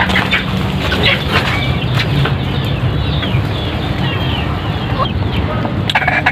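A native chicken hen clucks steadily and close, with other fowl chattering around her in a busy yard, the sound loud and continuous without pause.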